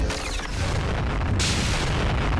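A beam attack fired down from the sky in the video game Fate/Grand Order: one dense, loud roaring blast that swells midway and fills the whole stretch, with no talk.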